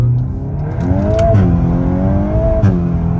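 A turbocharged Golf 7 engine rising in pitch as it accelerates, heard from inside, with a brief shift in tone midway and another climb.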